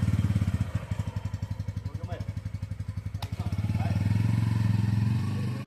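A motorcycle engine thrums in a rapid, steady pulse while riding, building slightly louder toward the end.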